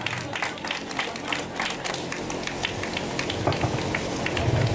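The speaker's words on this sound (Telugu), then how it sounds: "బిగ్గరగా చప్పట్లు కొడదాం" A crowd claps steadily at a school alumni reunion, a dense, continuous patter of applause heard from a moderate distance.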